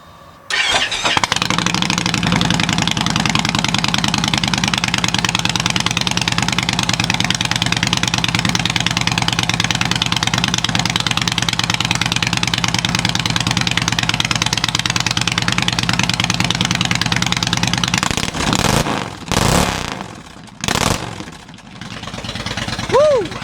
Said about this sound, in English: 2016 Indian Springfield with Freedom True Dual exhaust cold start.